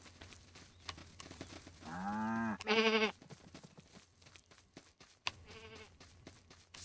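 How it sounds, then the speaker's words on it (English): Farm animals in the video game Staxel, two short drawn-out bleats in quick succession followed by a fainter third call, over quiet clicking background noise. "We just need to name Ruth the sheep."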